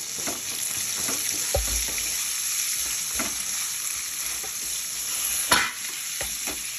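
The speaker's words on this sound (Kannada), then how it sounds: "ಈಗ ಕರಿಬೇವಿನ ಪುಟ್ಟ ಹಾಕ್ತಾ ಇದ್ದೀನಿ ಟೊಮೆಟೊ ಬೇಯುವಾಗ ಅದನ್ನು ಹಾಕ್ಕೊಳ್ತಾ ಇದ್ದೀನಿ" A pan sizzles steadily as curry leaves go into tomatoes cooking for tomato chutney, with a spoon stirring and scraping in soft taps and one louder clatter, all close and without talk.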